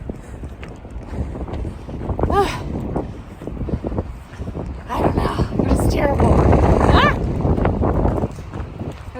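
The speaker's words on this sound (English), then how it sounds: "I figure if I can get down lower, maybe it will be less windy" Strong gusting wind on an exposed Pyrenees mountainside, roaring and buffeting the microphone in loud surges that swell and ease throughout, with a person talking over it.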